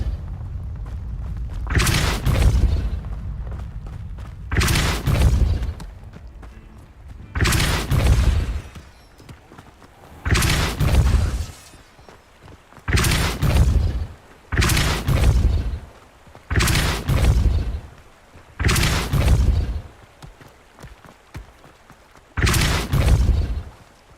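Depulso force spell blasts cast in Hogwarts Legacy, nine loud booming bursts spaced a couple of seconds apart, each a heavy thud with a crackling tail, separated by quieter ambience.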